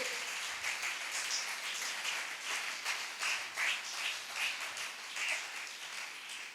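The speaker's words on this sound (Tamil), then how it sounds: "நல்ல கைதட்டு" A church audience at a Tamil sermon claps together in a steady, sustained round of applause, moderately distant and continuous for several seconds.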